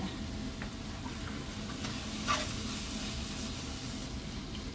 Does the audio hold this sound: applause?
no